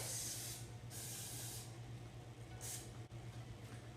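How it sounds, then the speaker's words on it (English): Cooking spray hisses from an aerosol can into a cake pan in a few short bursts, with a low steady hum in the background of the kitchen. "I'm using pan cooking spray. I'm going to spray the bottom and all around the sides"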